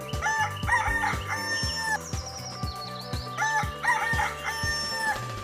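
A frightened chicken calls loudly and repeatedly in a story sound effect, with harsh rooster-like crowing and clucking in a steady rhythm, close and alone.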